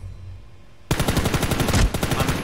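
Gunfire in the video game Ring of Elysium, where a Remington shotgun is in use, breaks out abruptly after a brief quiet lull as loud, rapid automatic bursts that keep going to the end.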